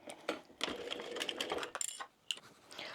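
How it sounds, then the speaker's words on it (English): A sewing machine stitches across a seam on a small crossbody wristlet bag, running in close bursts of rapid mechanical whirring with brief pauses, with no voices. "we're going to stitch across there at the seam allowance given in the pattern"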